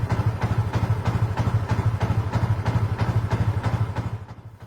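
A motorcycle fitted with an Uma Racing M9 ECU sits stationary, playing an idle loop preset: a loud, close, steady rhythmic pulsing of engine beats that keeps an even cadence before fading slightly at the end.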